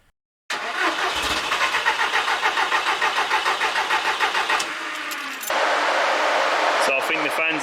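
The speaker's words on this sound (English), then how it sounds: "With the fuel pump disconnected, and once I got my hand on the key, we cranked the engine just to get oil pressure." A 6N2-generation VW Polo quattro engine cranks on the starter with its fuel pump disconnected, giving a steady rhythmic churning for several seconds that stops without catching. A fan-like whir and a few clicks follow, and a voice can be heard.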